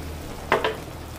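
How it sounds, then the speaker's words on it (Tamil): A spoon makes two quick scraping stirs through sambar in a pan after asafoetida goes in, close and brief over a soft background hiss. "பெருங்காயமும் போட்டுட்டு இதை ஒரு பிரட்டு பிரட்டிண்டு"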